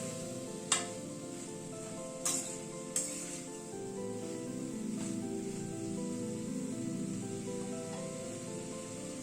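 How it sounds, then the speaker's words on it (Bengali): Young jackfruit is stir-fried with spices in a pan over a medium flame, giving a steady close sizzle with a few sharp clinks of a spoon against the pan early on. "সব মশলাগুলোকে দিয়ে এঁচোড়টাকে একটু কষিয়ে নেব।"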